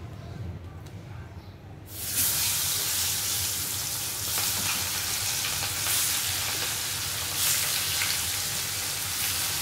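Hilsa fish hitting a pan of cooking vegetables sets off a loud, steady sizzle and spatter that bursts in abruptly after a quieter opening and keeps frying without pause.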